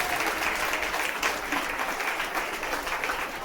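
A church congregation claps together in a steady burst of applause, dense and continuous, with no voices standing out.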